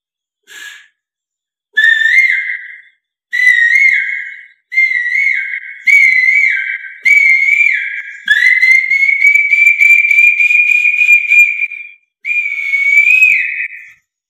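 A man mimics a koel perched in a tree, whistling its rising call in a series of sharp, loud bursts that lengthen into a long sustained phrase near the end, clear and close with nothing else behind.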